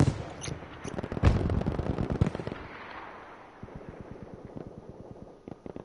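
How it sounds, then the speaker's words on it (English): Grenades and gunfire burst repeatedly in a competitive shooter league match, a dense loud barrage of explosions up front that thins into quieter rapid shots and pops. "Grenades going all over"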